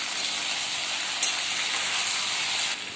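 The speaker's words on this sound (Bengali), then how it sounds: "তারপরে কাঁচা লঙ্কা দিলাম, দিয়ে এইবার ভাজা।" Green chillies frying in a pan at home, a steady, close and fairly loud sizzle with a faint spit partway through, running without pause for the whole stretch.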